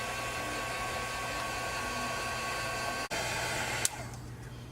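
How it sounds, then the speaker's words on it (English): A heat gun blows steadily on embossing powder coating a tag, giving a loud, even roar of rushing air that continues for several seconds with a brief dropout near the end. "heat gun and you're going to go ahead and you're going to heat the whole surface of the tag"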